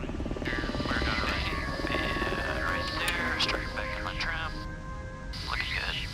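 Rescue helicopters rehearsing in-air refueling for combat search and rescue, a steady loud rotor and engine roar running throughout, with voices and radio chatter over it.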